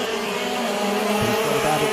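KZ racing karts at the Genk circuit during a European Championship final, their two-stroke engines a steady, loud, high-pitched buzzing drone that holds throughout, with a commentator's voice faintly present.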